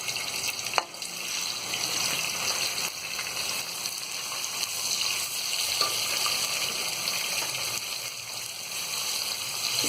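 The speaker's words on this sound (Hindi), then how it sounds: "प्याज को हम हल्का सा फ्राई करेंगे।" Onions frying lightly in a pan for mutton do pyaza, a steady broadband sizzle running throughout at moderate level with a few faint clinks, no talking.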